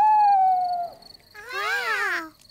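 Cartoon owl hooting at night in a campsite scene, a long held tonal call followed by a warbling, wavering second cry, fairly loud and close with no talk over it.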